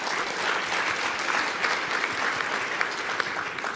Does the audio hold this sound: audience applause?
yes